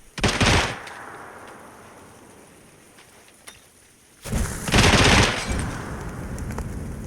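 Gunfire in PUBG on PC ends in a headshot kill, with two loud bursts of shots separated by a quieter stretch and a faint single crack between them.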